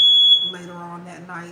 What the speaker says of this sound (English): that is just the smoke alarm